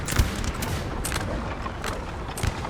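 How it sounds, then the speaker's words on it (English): Skirmishers fire muskets in a Napoleonic battle in Napoleon Total War, an irregular scatter of distant crackling shots and low booms over a continuous battlefield rumble. "Skirms here are still firing."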